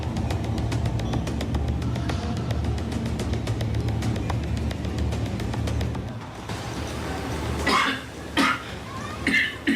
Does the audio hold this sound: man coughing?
yes